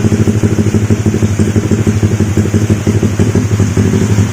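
A Yamaha LC motorcycle fitted with a loud GL exhaust idles close by during heavy rain, its engine giving a steady, throbbing, rapid putter that stays loud throughout.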